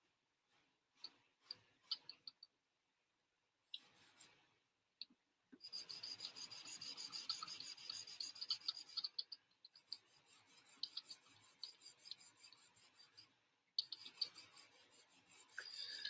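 A 2B charcoal pencil is worked across paper in close-up, making soft scratchy rasping strokes: scattered short taps at first, a pause, then long stretches of steady rubbing shading broken by brief silences.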